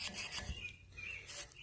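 An old paint gun cleaning brush scrubs brake parts on a Scion xD that have been wet with brake cleaner, giving a steady, close, raspy scrubbing with short bursts of rubbing.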